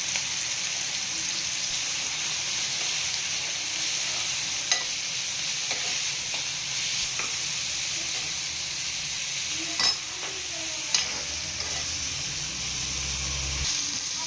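Carrots stir-frying in a pan for bread toast, a soft continuous sizzle and hiss with occasional stirring clinks and scrapes, close and fairly quiet.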